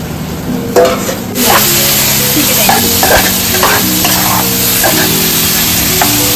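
Chicken pieces frying loudly in hot oil in a pan after cloves, a steady broadband sizzle with bursts of stirring and scraping, close and continuous with no talk.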